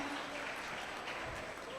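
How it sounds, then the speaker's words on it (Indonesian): An audience at a church talent show claps together in a brief, steady burst of applause, heard from a distance and fairly faint. "tepuk tangan lagi untuk Ibu Duma"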